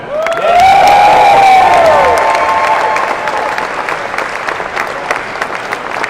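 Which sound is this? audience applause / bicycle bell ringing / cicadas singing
audience applause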